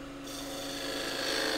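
A half-inch spindle gouge cuts into wood spinning on a lathe, giving a continuous loud rasping scrape that holds steady and swells slightly toward the end, with no talk over it.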